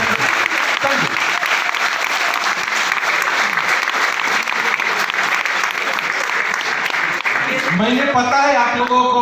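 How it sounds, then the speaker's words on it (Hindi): An audience at a stage talk in India claps in sustained, loud applause that fills the whole stretch, with a voice speaking over the clapping toward the end. "Thank you, Tali बजाइए।"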